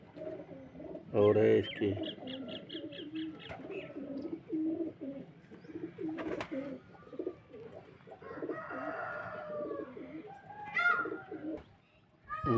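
Pigeons in Karachi, Pakistan coo in repeated throaty bursts close by, mixed with faint chirps and rustling, while someone speaks intermittently over them.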